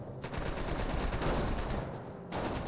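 In the Company of Heroes strategy game, engineers and Panzer Grenadiers exchange a dense, continuous volley of rapid gunfire. The crackle is steady and fairly loud, with a brief dip near the end.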